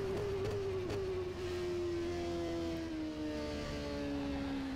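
McLaren Shadow race car in the rFactor 2 simulator, its engine holding a steady high whine that drifts slowly downward in pitch, heard up close and continuous with no talk.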